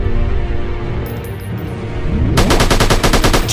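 Gunfire in an FPS shooting video game: a dense, loud stream of shots, then a rapid automatic burst of evenly spaced cracks for the last second or so, with no voices.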